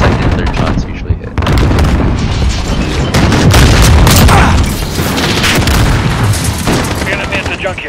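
Rocket launches and heavy explosions in Call of Duty Modern Warfare come in a loud, dense barrage of booms and gunfire. The blasts run almost continuously, with scattered crashes layered over them.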